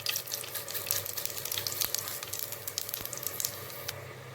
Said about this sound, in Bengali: তেল গরম হয়ে গিয়েছে, তাই এখন আমি এর মধ্যে দিয়ে দিচ্ছি শুকনো লঙ্কা, তেজপাতা